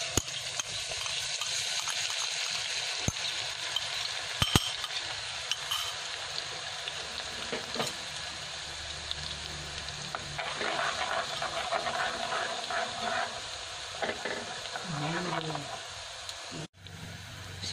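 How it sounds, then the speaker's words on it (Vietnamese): Garlic, chili and pounded ginger sizzle in hot oil with a steady frying hiss and occasional stirring clinks, close and fairly loud throughout, with a brief higher sound near the end. "Bây giờ mình sẽ cho cái tỏi nè, ớt nè, gừng mình bầm mình cho vào mình phi nha"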